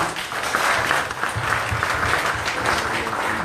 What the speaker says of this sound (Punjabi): ਮੈਂ ਚਾਹੁੰਗਾ ਇੱਕ ਵਾਰੀ ਉਸ ਨੌਜਵਾਨ ਦੇ ਲਈ ਤਾਲੀਆਂ ਮਾਰ ਦਿੱਤੀਆਂ ਜਾਣ